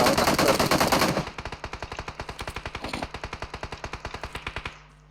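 Rapid automatic gunfire in a shooting video game: a dense loud burst, then a steady string of about thirty evenly spaced sharp shots that stops abruptly, heard alone without voices.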